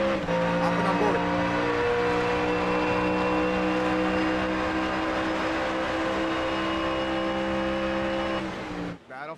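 Ford Mustang GT3 race cars in a sim racing game at Shell V-Power Motorsport Park, engines holding a loud, steady, close-up droning roar with layered tonal harmonics that runs unbroken for about nine seconds before cutting off abruptly.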